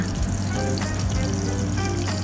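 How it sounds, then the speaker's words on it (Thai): A steady, crackling sizzle of garlic frying in vegetable oil, continuous and close, with a low hum underneath. "ใส่น้ำมันพืชหนึ่งช้อนโต๊ะ ตามด้วยกระเทียมผัดให้เหลืองเลยนะคะ"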